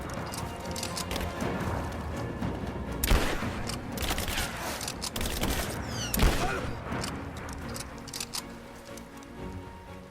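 Gunfire in the video game Rise of the Tomb Raider, a busy stream of shots and impacts over a noisy, rain-like background, with two sharp, loud cracks standing out and steady clatter between them.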